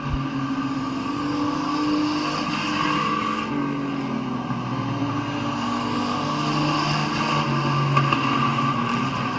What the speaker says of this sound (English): He'll get to the bottom of the racetrack in front of Varnes.